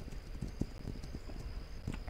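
Horse hooves clip-clop in a steady rhythm during a night ride in the video game This Land Is My Land, moderately close and continuous, with no talking.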